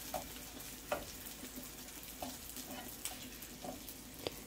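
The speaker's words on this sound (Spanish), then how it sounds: "Pues vamos a esperar a que se fría esto." Chiles, bread and seeds frying in oil for mole, a soft steady sizzle with scattered sharp pops and crackles from jumping seeds, close and fairly quiet.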